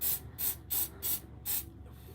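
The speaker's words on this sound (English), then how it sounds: "And then while it's like that, a little bit of spray" Five short, evenly spaced hissing bursts from a spray can, fairly quiet and close, with brief pauses between them.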